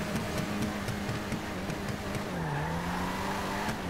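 Sports car in GTA V driving hard, a loud sustained engine drone with shifting pitch that dips and climbs again mid-run, with faint tire noise, steady and close, no talk.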